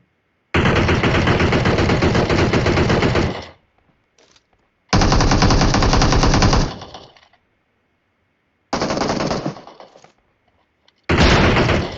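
Gunfire in PUBG Mobile comes as loud, close, sustained automatic bursts, four long volleys separated by silent gaps.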